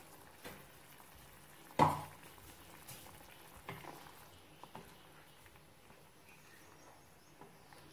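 Quiet bubbling of an egg curry gently simmering in a pot, with a few soft clinks and stirring scrapes over a low, steady background.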